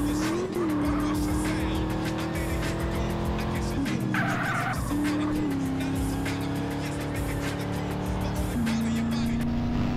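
Car driving in Grand Theft Auto San Andreas Definitive Edition: a loud, steady engine drone with gear shifts and tire squeals, game music and effects layered on top throughout.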